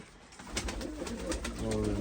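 Pure Marga pigeon cooing in a coop, low repeated coos over a busy background with faint voices nearby.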